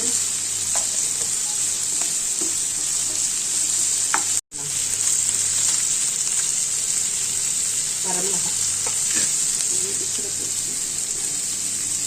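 Onions sauté with a little salt for a spicy kara chutney, giving a steady, bright sizzle with occasional stirring clicks, fairly loud and close, and a brief dropout near the middle.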